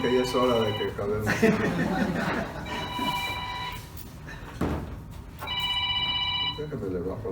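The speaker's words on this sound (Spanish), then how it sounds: "El teléfono" A telephone rings in repeated bursts, a bright electronic trill sounding three times during a Spanish-language Bible study while someone speaks over and between the rings.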